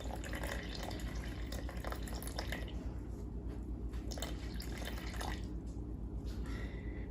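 Water pours into a sourdough starter jar sitting on a kitchen scale, a soft continuous trickle and splashing, quiet and close, over a low steady background hum.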